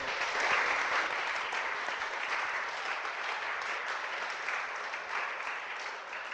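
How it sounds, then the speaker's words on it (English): An audience gives a round of applause after a talk, a dense, steady wash of clapping that stays even and sustained throughout. "can you just give a round of applause to Pete"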